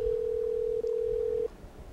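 A telephone tone on a call, one steady unbroken tone lasting about a second and a half with a tiny dip partway through, then it stops, leaving quiet background.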